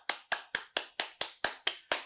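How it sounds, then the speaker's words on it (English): One person claps nine times at a steady, even pace, each clap crisp and close, with clean silence between strikes and no voices. "So clap, clap, clap, clap, clap."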